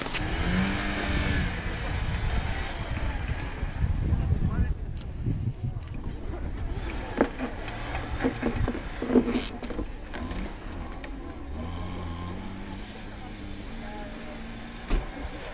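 A Lada Niva accelerates over rough off-road ground, its engine surging under a loud, rattling, bumpy rumble while people talk nearby.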